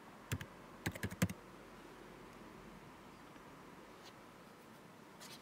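A few quick, faint keystrokes on a computer keyboard come in a short burst near the start, then steady quiet room hiss with a lone distant tap later on.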